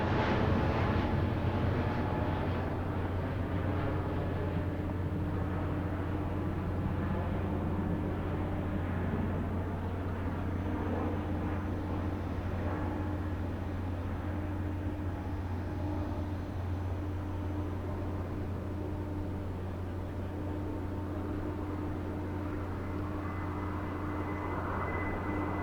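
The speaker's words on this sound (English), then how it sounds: "Coming into land, 737-10 from Boeing." A Boeing 737-10 MAX jet airliner coming in to land during a flying display at Farnborough International Air Show 2022, a steady broad jet roar with a low tonal hum, heard from a distance throughout.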